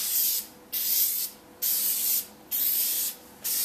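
Aerosol spray paint hissing in light coats onto an RC4WD Trail Finder 2 body, four long even bursts with short pauses between them, close and loud with no talk.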